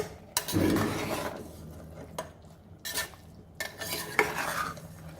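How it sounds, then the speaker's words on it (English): A spoon stirs mutton keema cooking on a low flame, scraping and clinking against the pan in several distinct bursts separated by brief pauses, near and fairly loud, with a faint sizzle underneath. "So I'll take this spoon now and mix this."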